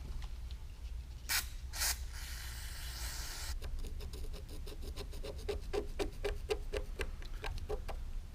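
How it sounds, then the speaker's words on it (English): Carb cleaner sprays onto a Mercury 9.9 outboard carburetor bowl in two short bursts and then a longer hiss, followed by a run of rhythmic scraping or brushing strokes, fairly faint in a quiet workshop. "Try using some of this carb cleaner."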